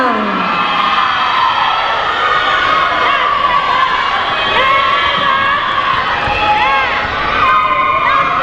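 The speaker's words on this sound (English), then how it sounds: "And the crowd goes wild." A large crowd cheers and screams wildly at a Tahitian dance competition, Hura Tahiti, with dense, continuous, loud whooping and shrieking voices that go on for the whole stretch.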